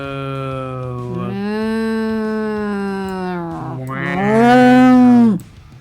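A person imitating a cow with drawn-out, tonal moos: two long lowing calls, the second rising louder and higher before cutting off abruptly, close and clear.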